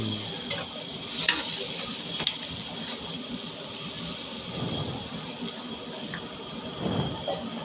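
Ground poppy seed paste being stirred in a hot pan, a soft steady sizzle with intermittent scraping strokes and a few faint clinks, fairly quiet and close.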